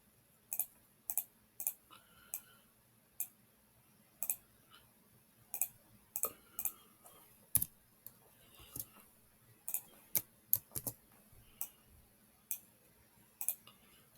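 A computer mouse gives sharp, quiet clicks at irregular intervals, some landing as quick doubles, close by and alone against a near-silent background.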